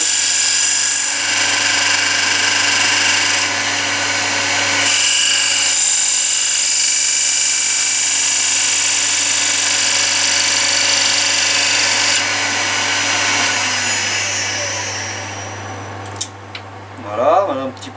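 A wood lathe spins a turned piece while a thin wire presses into a groove to burn a dark line, making a loud, steady whirring hum with a high friction whine that winds down near the end.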